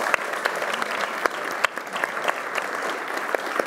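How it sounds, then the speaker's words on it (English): Steady applause from a biotech conference audience for a panel, many hands clapping at once in a dense, even patter that holds for a few seconds. "a big round of applause for the panel"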